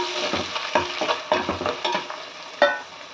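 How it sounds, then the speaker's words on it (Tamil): Ground pepper and small-onion (shallot) paste sautéing in a pan for village-style fish curry, with steady sizzling frying broken by repeated scraping stir strokes from a spoon, fairly close. "வெங்காயம் நல்லா பச்சை ஸ்மெல் போகிற வரைக்கும் வதக்கிக்கோங்க"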